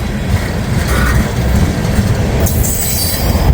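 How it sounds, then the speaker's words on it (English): An ethanol freight train bound from Bensenville, Illinois toward Tampa rumbles past loudly at close range, wheels grinding steadily, with a high metallic squeal breaking in near the end. "this ethanol train comes out of Bensenville, Illinois, usually Chicagoland area"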